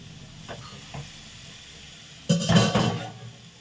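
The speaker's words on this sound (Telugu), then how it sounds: "క్యారెట్ ఫ్రై అయితే అయిపోతుందన్నమాట" Carrots frying in a pan, soft scraping stirs at first, then a louder burst of sizzling and stirring that fades toward the end, close by with no talk.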